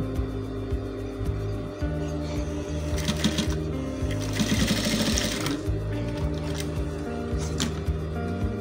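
A sewing machine stitches folded shirt fabric along the neck edge of a vintage shirt, its rapid needle rhythm running steadily and close throughout, with a few brief bursts of faster stitching.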